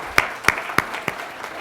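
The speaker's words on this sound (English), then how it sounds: "Give her a big round of applause." A few distinct, evenly spaced claps ring out at a leadership lecture event as the audience starts applauding, sharp and fairly close, then fading into softer scattered clapping.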